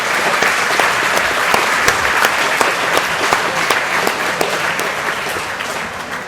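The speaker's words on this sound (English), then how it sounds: "let's give a round of applause to Kateri Beekler and Beth McManaway" A round of applause from the audience at a chamber of commerce annual meeting, loud and continuous with many hands clapping close by, slowly thinning toward the end.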